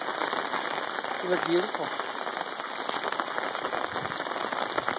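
Steady rain falls throughout an October Sunday morning walk along a road, a constant hiss close around the walkers, while people talk over it.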